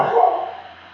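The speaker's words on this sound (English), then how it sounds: "the dog's only going to bark when I'm making the videos" A single close dog bark rings out sharply and then fades away over about a second, with no other sounds around it.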